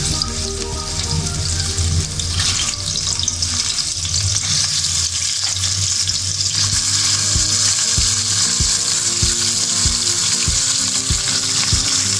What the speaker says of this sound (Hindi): और इसमें लहसुन अदरक का पेस्ट डालूँगी और उसको हल्का सा फ्राई करना है